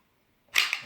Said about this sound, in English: Pull the slide back.